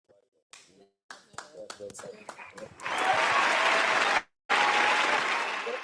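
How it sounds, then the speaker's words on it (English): A few separate hand claps, then a burst of sustained clapping with a short gap before it resumes, with someone talking over the early claps. "I'm clapping. I'm clapping, man."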